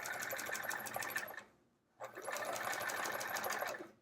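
A sewing machine stitches quilt fabric with metallic thread for an hourglass block, running in a steady, loud rapid whir that stops for about half a second in the middle and then resumes.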